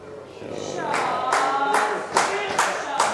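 Crowd at an English pool (blackball) singles match breaks into cheering and applause for a shot, with rising bursts of clapping and voices repeating several times at close range.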